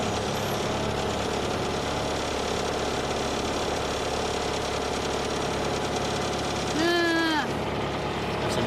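Machine engine driving an auger bit while building a tortoise enclosure: a steady, rumbling mid-pitched engine drone runs throughout, with a brief rising whine near the end.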